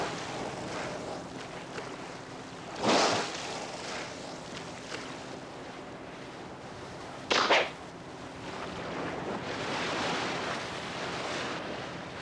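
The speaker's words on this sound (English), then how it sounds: "The whale has become accustomed to the sound of the ship's motor" A ship's motor drones at sea during whale research, a low, steady hum mixed with wind and waves. Two louder whooshing bursts of wind or spray cut through, and there is no speech.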